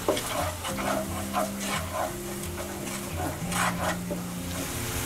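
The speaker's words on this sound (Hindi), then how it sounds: "अच्छे से मिक्स करेंगे और तेल अलग होने तक भूनेंगे, गैस की आंच को धीमी रखेंगे।" A spiced mixture being stirred and fried in oil over a low gas flame, with a gentle sizzle under repeated scraping strokes of a spoon in the pan.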